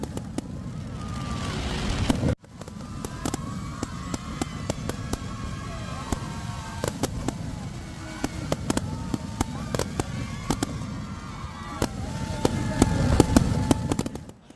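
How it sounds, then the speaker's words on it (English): Firecrackers burst in the night sky during a celebration in Ranchi, India, with sharp cracks and pops scattered irregularly over a steady crowd roar, some near and loud, others distant, after a brief break in the sound. "Tears of joy and euphoria reigned through the evening as firecrackers lit up the night sky in Ranchi."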